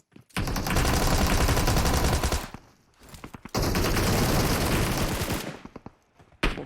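Sustained automatic gunfire in the PUBG Mobile video game, two long dense bursts separated by a short gap, loud and close, with a final shot at the end.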